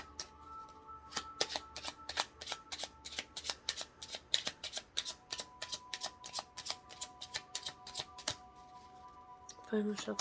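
Tarot cards being shuffled up close, a long run of quick crisp riffling snaps in a steady rhythm, ending with a brief louder clatter as the deck is squared.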